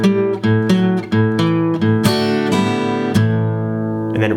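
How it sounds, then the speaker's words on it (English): A guitar plays the second section of a boogie woogie blues shuffle rhythm in A, a steady chugging riff of repeated chord stabs with rising and falling notes, close and alone without talk. "And then section number 2 will sound like this."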